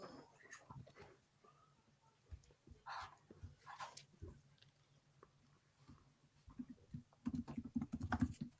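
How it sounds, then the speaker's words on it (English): Someone types on a computer keyboard in quick clattering bursts, faint at first and building to a dense, louder run of keystrokes near the end, with a dog barking and whimpering at moments. "I heard someone typing."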